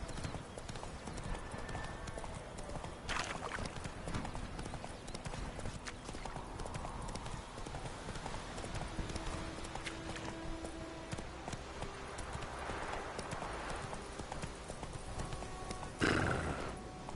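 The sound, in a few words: Roach the horse galloping and neighing, Witcher 3 video game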